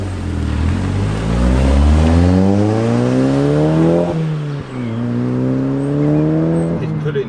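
An Audi S3 facelift engine revs up through the gears while driving, pitch climbing, a brief drop at a gear change, then rising again, loud and close.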